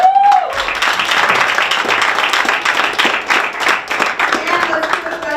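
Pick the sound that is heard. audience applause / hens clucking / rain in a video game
audience applause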